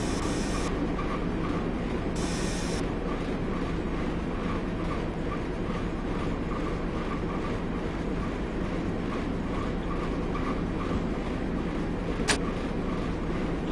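Class 121 DMU diesel railcar in Train Simulator 2016 on the South Wales Coast route, a steady loud engine drone and rail rumble running throughout, with brief high hiss bursts near the start and a short sharp tone late on.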